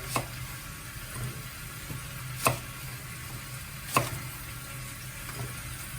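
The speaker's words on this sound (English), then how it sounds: "here you can see the brisket starting to brown off, going colour." Brisket browning in a pan gives a steady, low sizzle throughout, with a few sharper clicks or taps from stirring now and then, close up and with no talking.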